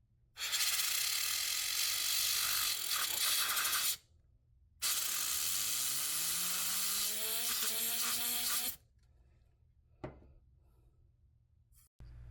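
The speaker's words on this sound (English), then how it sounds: "So I get some canned air and spray it off." Two long, loud blasts of canned air hiss up close, blowing dust off a PS5 fan, the second with a rising whir as the fan spins up, followed by a few short clicks.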